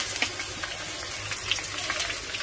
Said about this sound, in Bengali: এবার এই কুচি করা পেঁয়াজটা আমি দিয়ে দেবো।